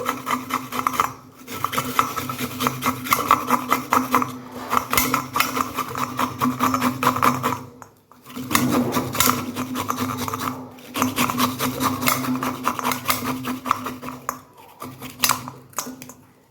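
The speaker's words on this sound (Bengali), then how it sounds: "গ্রেটারে করে একটু আদা গ্রেট করে নিচ্ছি" Fresh ginger rasped on a grater in a home kitchen, a steady run of scraping strokes with short pauses between bursts, close and fairly loud with no talking.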